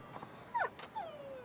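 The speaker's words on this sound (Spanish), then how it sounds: "¿Was that a dog?" A dog in the video game Yakuza 5 gives a couple of short whimpering yips and a brief whine, moderately close against a faint game background.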